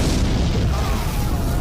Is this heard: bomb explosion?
yes